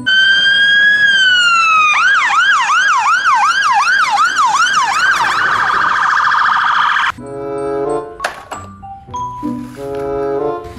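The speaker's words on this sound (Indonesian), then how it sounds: "Ada mobil pemadam kebakaran." A toy fire truck's siren wails loud and close with a rising, falling tone, then switches to a fast repeating yelp before giving way to other electronic toy noises, with no talking.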